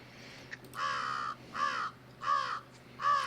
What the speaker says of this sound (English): crows will be after you.